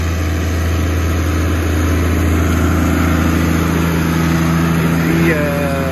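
A tractor engine runs steadily, working the soil for a spinach planting, a loud continuous low drone with an even mechanical hum throughout and no change in pace.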